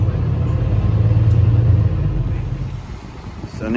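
Deep, steady engine rumble and road noise fill the cabin of a bus heading to a hotel by the Reykjavík harbour, easing slightly toward the end as a voice begins to speak.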